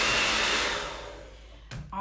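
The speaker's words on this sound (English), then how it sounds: "Now we're gonna mix until it turns to cream." Electric mixer whipping cake cream in a bowl, a loud close whirring drone that gradually fades as it winds down, followed by a brief clunk at the end.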